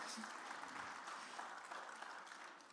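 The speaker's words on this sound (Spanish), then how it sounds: "denle un fuerte aplauso" A church congregation breaks into applause, a soft, even patter of many hands clapping that sounds fairly distant and continues steadily without letting up, with faint voices mixed underneath.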